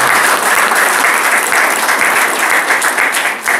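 An audience at a political opposition gathering gives sustained, loud applause, a dense wash of clapping from many hands with a slight swell near the end.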